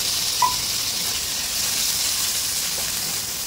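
Tomatoes frying in a hot pan for tawa pulao, giving a steady, close sizzle and hiss with a faint clink near the start.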